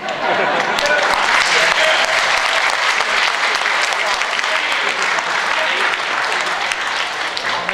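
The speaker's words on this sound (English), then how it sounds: "I appreciate the applause" Steady applause fills a council chamber at a municipal meeting, an even wash of many hands clapping at moderate volume that carries on without a break.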